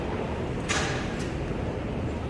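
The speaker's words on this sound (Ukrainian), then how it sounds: "О, і двері відкриваються." A sliding door at a Warsaw metro station glides open with a short hiss and a second brief swish, over a steady low hum of the station, no talk.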